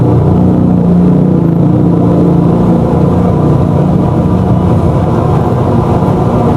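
An electric motor sitting on a table drives a machine that mixes batter for Japanese soufflé pancakes, giving a loud, steady, unbroken whirring hum with no voices over it.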